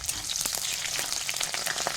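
Onions sizzle in hot mustard oil with black cumin in a kadai while alur bhaja is being cooked, a steady close crackling fry with scattered pops and no talking.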